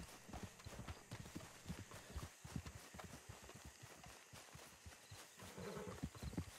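A horse in Red Dead Redemption 2 runs off, its hooves drumming in a rapid clip-clop rhythm that carries on for several seconds, with a snort near the end.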